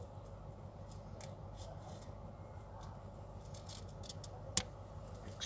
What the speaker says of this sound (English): And then cut that to the end.